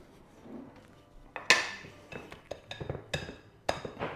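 A wooden spoon works through thick zucchini bread batter in a bowl, giving a run of knocks and clinks against the bowl in an uneven rhythm, close and fairly quiet, with no talking.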